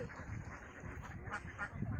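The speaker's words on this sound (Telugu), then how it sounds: "మా ఊరి చెరువులో డక్స్ ఎన్ని ఉన్నాయి చూడండి" Ducks on a village pond with more than a thousand birds, giving a soft, distant wash of quacking over steady outdoor background noise.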